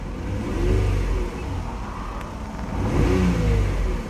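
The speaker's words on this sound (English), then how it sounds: "But now if I rev it" Car engine revved twice in quick succession during an oil pressure sensor upgrade kit install, each rev rising and falling in a close, steady whir.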